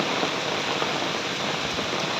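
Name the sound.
morning rain falling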